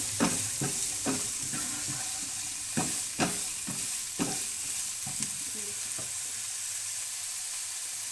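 Long strips of carrot, large capsicum and a quarter cabbage cook in a pan over a low flame, with a steady soft sizzle broken by several sharp spatula stirs in the first half, then quieter, even frying with no talk.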